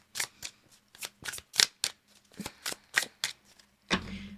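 Tarot cards being shuffled and handled during a reading: a string of crisp, separate snaps and flicks at an uneven rhythm, close and fairly loud, with no voices.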